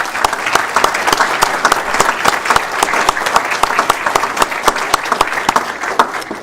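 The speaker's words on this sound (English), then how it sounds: "let's give them a big round of applause" Steady, dense applause from a crowd at a city council meeting, continuous clapping throughout with no pauses.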